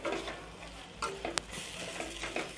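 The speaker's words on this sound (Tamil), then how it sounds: "தேங்காயும் இதோடு சேர்ந்து நல்லா வதங்கட்டும்." Grated coconut sautés with onion and tomato in a pan for a Tamil tomato gravy, giving a soft steady sizzle with a few light scrapes and taps of a spoon, fairly quiet and without talk.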